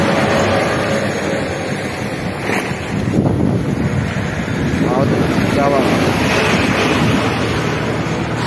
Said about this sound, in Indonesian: Istirahat dulu, ini pantai.